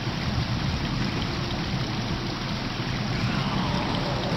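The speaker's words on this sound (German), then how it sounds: "Peter, stell das Wasser ab!" Steady running water turned on by a switch in the Spider-Man PlayStation 1 game, a constant broadband rushing stream, loud and unbroken throughout with no pauses.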